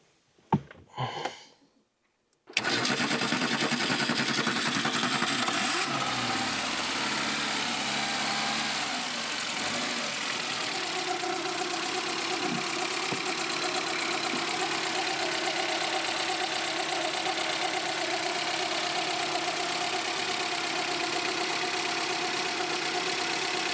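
An Audi 80 B2's 1.6 engine idles close by, a steady, even rumble that holds without revving after a brief burst of handling noise at the start.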